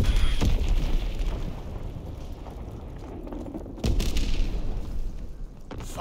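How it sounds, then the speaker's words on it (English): A Fritz X guided bomb detonates in Call of Duty: WWII multiplayer, giving a heavy rumbling explosion with a sharp blast at the start and another jolting impact midway, then a lingering low roar. "Dropping Fritz X bomb."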